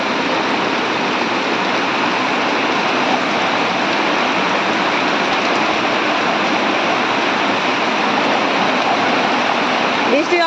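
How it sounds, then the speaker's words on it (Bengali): Heavy rain falling outdoors, a loud steady wash of dense droplets with no pauses, filling the whole clip evenly. "এরকম জোরে বৃষ্টি নামছে বাইরে অনেক বৃষ্টি"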